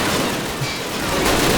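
Dense battlefield gunfire from Call of Duty during a World War II assault on Berlin, a loud continuous roar of overlapping shots and blasts with no pause.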